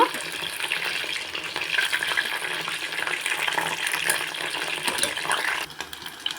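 Chicken pakoda pieces fry in hot oil until crispy, giving a dense, steady sizzle with busy crackling, loud and close throughout, fading slightly near the end, with no voices.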